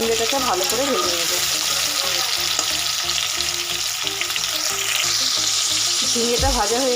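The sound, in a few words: ridge gourd frying in pan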